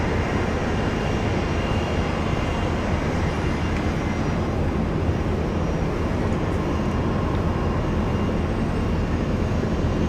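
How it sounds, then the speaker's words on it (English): A Qantas airliner, flight 613, departs Brisbane airport with a loud, steady jet roar that fills the whole stretch without a break and has no voices over it. "Departure Qantas 613."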